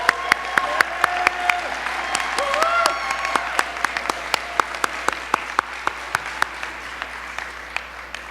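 A crowd applauds honorees at the close of the San Francisco Immigrant Leadership Awards 2024 ceremony, steady dense clapping throughout with a voice speaking over it and a few sharp individual claps standing out.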